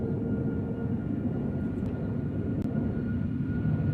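Southwest airliner on its takeoff roll, heavy with fuel for a long flight to the mainland, gives a steady broadband engine roar that holds evenly throughout, with no voices heard.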